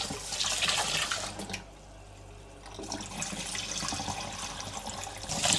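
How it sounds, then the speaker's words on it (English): Water runs steadily from a kitchen tap into a sink as rice is rinsed, a continuous close splashing hiss with a brief quieter dip partway through. "When I'm rinsing out my rice, I just do it until it runs clear."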